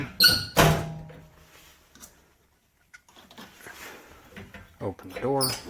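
Back door of a 1989 Blue Bird International S1800 school bus being opened, giving a couple of sharp squeaks and clunks near the start, then quieter handling noises before a person starts talking at the end.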